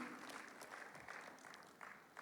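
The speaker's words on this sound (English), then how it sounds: "Keep clapping until it comes on stage" An audience at the Careerfest event in Nigeria claps steadily as a speaker from Airtel is welcomed, a soft, continuous patter of hands heard at a distance, fairly faint.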